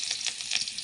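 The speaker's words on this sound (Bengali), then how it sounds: "পেঁয়াজ বাদামি করে ভেজে নামিয়ে নেব।" Onions frying in hot oil for a seafood fish and ridge gourd curry, a steady close hiss of sizzling with soft pulsing swells throughout.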